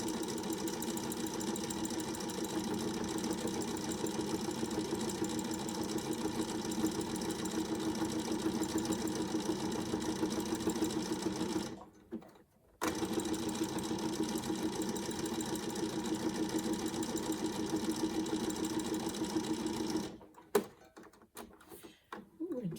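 A sewing machine runs steadily, stitching fabric scrap ends together into long trim, with two brief pauses before it starts up again.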